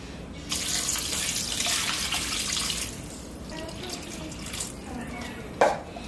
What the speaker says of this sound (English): Now we're just gonna top it up with a whole bunch of cold water.